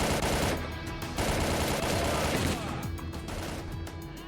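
Heavy automatic fire from a big gun in STALKER: Call of Pripyat roars in dense rapid bursts with a brief pause, loud and close, while a voice speaks over it.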